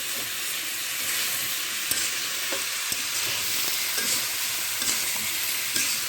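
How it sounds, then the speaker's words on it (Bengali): Ridge gourd fries over low heat in a pan with a little dried chili powder, giving a steady close sizzle throughout, broken by occasional soft clicks of stirring. "হালকা আঁচে ভাজতে হবে।"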